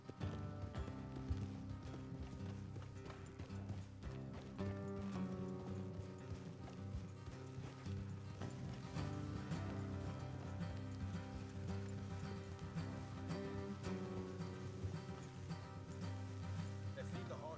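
Steady clip-clop of horse hooves on a road in Red Dead, continuous and fairly close, layered over a constant low rumble of game music and ambience.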